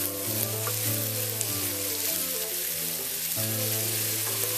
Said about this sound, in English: While we continue to stir our pork as well.